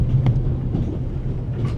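Train noise aboard the Orient Express in a video game: a steady low rumble with a faint humming tone and a few soft knocks and rattles, heard continuously and fairly loud with no speech.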